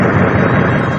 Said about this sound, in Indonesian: Getaran suara dari ledakan cambuknya meledak menggelegar